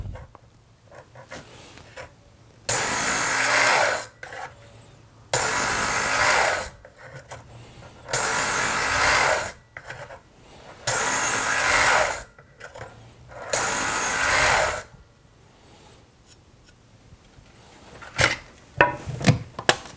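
A Work Sharp Knife & Tool Sharpener making five loud, evenly spaced abrasive passes on a knife blade, each a harsh grinding buzz of about two seconds separated by quieter gaps, followed by a few sharp clicks and handling knocks.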